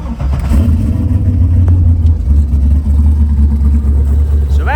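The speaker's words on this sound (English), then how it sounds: "this is a beautiful sounding LS3" A twin turbo LS3 V8 in a 1969 SS Camaro rumbles steadily and loud at close range, a deep idle that holds throughout with slight rises, a voice briefly audible beneath it.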